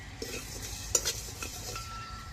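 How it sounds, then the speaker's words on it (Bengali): Spices dry-roasted in an empty pan for a chilli pickle are stirred with a spoon, producing quiet scraping and light clinks over a faint sizzle, with one brighter metallic tap near the middle. "এবার ভেজে নেবো ভালোভাবে"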